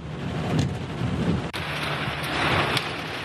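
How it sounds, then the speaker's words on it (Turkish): Heavy downpour with hail during a storm in Istanbul, a loud continuous hiss of rain with a brief dip near the middle and no voices. "felaket bir dolu yağışı var"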